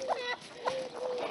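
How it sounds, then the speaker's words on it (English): Chickens and guinea fowl cluck and chatter in quick overlapping bursts nearby, with a faint steady tone running underneath. "We're going to let the chickens out and the guineas out."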